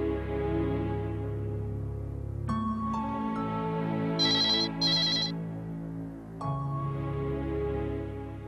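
A telephone rings in a domestic drama scene, giving two short bright electronic ring bursts in the middle, set against a sustained music backdrop with no talk.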